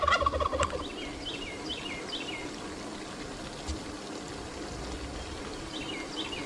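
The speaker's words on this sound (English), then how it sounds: "I'm ready to put water in this and test it out" Water pours and trickles steadily into a newly dug duck pond, faint and constant, while turkeys gobble repeatedly nearby.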